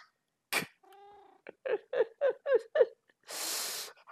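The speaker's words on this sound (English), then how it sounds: "Yay, I got a cat!" A tamed cat in a video game lets out a sharp hiss, then a purring trill and a quick run of meows, ending in a burst of breathy hissing noise, all close and clear with no voices.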